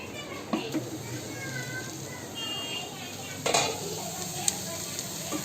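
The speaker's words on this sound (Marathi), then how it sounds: "आता पहिला एकदा ढवळते." Cooked sweet potatoes in a pan, with the gas just switched off, are stirred once, giving a low lingering sizzle with a few distinct spoon knocks and scrapes against the pan.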